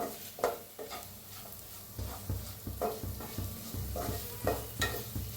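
Leftover spice masala being dry-roasted in a pan while being stirred, heard as a soft sizzle with repeated scraping strokes at an uneven rhythm, close and moderately quiet.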